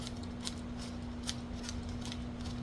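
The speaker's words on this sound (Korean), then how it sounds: "접힌 부분까지 가위로 잘라주시는데, 이렇게 일자로 자르시거나 혹은 대각선으로 잘라주시면 돼요" Scissors cutting baking paper for a round or pound cake tin, a series of crisp snips spaced about every half second to second, close and distinct over a steady low hum.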